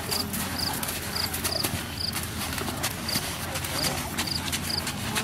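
Horses walking at a riding event: regular clip-clop hoofbeats throughout, with crickets chirping in the background and some talk over a noisy outdoor hum.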